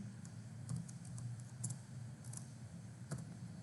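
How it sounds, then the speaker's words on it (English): Scattered, faint clicks of computer keyboard typing come through a low steady hum in a room, sparse and irregular rather than a continuous run. "I'm typing"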